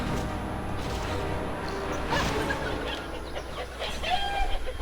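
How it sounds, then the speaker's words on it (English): In the Baldur's Gate Enhanced Edition video game, a chicken clucks in short, repeated bursts over a busy game soundscape. The clucking is moderately loud and stays steady throughout. "now I picked up Melicamp the chicken"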